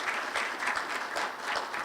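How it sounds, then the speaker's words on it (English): A community flood forum audience gives a round of applause, a brief, even wash of many hands clapping at moderate volume without a break. "I'd wish you'd give her a round of applause for all her efforts"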